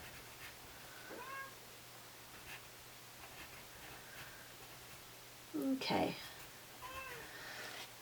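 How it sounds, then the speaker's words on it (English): A small house cat meows and cries faintly at a door, a few soft calls against quiet room hiss, with a brief louder thump near the middle and a short spoken word. "If you hear our little cat,"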